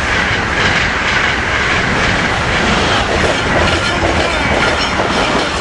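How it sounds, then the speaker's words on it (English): Two Amtrak Acela trains passing each other at speed, a loud continuous close-up rush of wheels and rail noise with a rhythmic clatter. "Double Acela meet."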